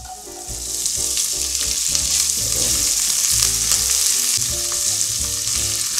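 Sausages sizzle steadily in a pan with garlic, a loud continuous fry with crackling and occasional scrapes, while music plays underneath.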